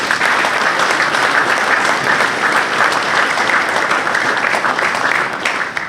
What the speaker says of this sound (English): we can give Gene a round of applause